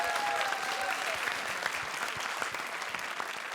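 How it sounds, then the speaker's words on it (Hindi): Moderately distant audience applause rolls on steadily for a few seconds on the set of a Hindi comedy stage show, cheering on a performer named Salim Bhai. "तो जोरदार तालियों से उनका हौसला बढ़ाइए।"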